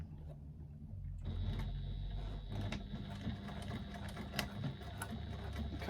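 A sewing machine runs steadily while stitching a seam on a bag, a fairly close, continuous motor hum with a faint rapid needle patter, starting after a brief quieter moment.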